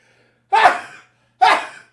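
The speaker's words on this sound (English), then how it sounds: "I'm about to sneeze." Two sharp sneezes, close and loud, each a sudden burst that trails off, separated by a short silence.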